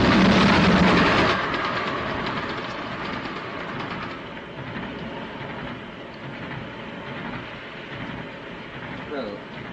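A moving passenger train, its steady rumbling roar and rail clatter filling the space, loudest at first then settling into a continuous carriage noise.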